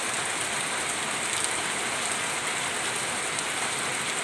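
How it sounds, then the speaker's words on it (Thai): Light rain falls steadily and evenly as a close, continuous patter with a fine hiss across the whole stretch, with no voices over it. "มีแต่สายฝนลงมากนาะค่ะเนาะ"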